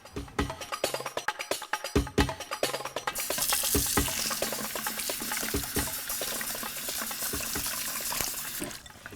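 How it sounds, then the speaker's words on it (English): Fine bulgur wheat being rinsed for Lebanese kibbeh nayeh: sharp intermittent clinks and splashes for about three seconds, then a steady rush of running water and swishing grain until the end. "So I'm just rinsing our cup of fine bulgur wheat for the finale dish"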